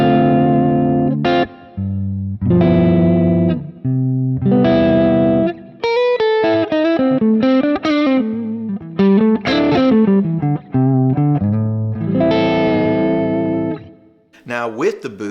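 An electric guitar on its warm neck pickup plays through a Kemper amp with no boost, giving a clean, full tone of picked chords and single-note runs with short pauses between phrases.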